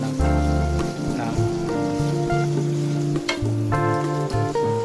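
Ingredients for pancit noodles sauté in a hot pan, giving a steady sizzle that runs under prominent background music.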